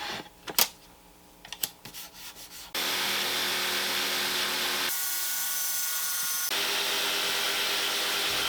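A jigsaw cuts an arch out of a wooden board for a DIY router table. A few handling taps come first, then a loud, continuous buzzing rasp whose tone shifts partway through the cut.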